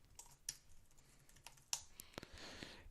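Quick, light keystrokes on a computer keyboard, a handful of crisp clicks in an irregular rhythm, close and quiet with no talking.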